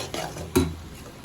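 Eggs being sautéed and stirred in a pan for a chana dal egg curry give a soft sizzle under a single sharp scrape of a spoon against the pan, close by and fairly quiet.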